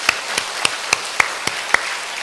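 A church congregation claps during a prayer service, giving sharp, evenly spaced claps in a steady rhythm that stand out against quiet background noise.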